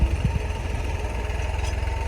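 A small tractor engine runs steadily while pulling a sugarcane planting machine in a field, a continuous low idling drone with rhythmic mechanical vibration and no speech.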